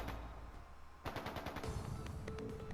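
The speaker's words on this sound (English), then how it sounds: "That sound. Gunfire from deeper in." Bursts of video game gunfire crackle from somewhere in the distance, beginning about a second in and continuing as repeated rapid volleys over a steady background ambience.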